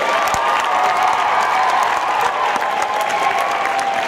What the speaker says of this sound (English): Let's give one final big round of applause to all of the performers